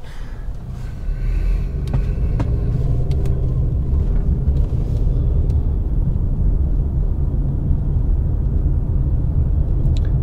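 A car drives steadily through the small town of Nāʻālehu in Hawaii, a continuous low engine and road rumble that stays loud and even throughout, with no talking.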